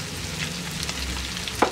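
Chopped carrot, green beans and other vegetables frying in a pan for Christmas rice, a steady soft sizzle with light stirring scrapes and a brief clack near the end.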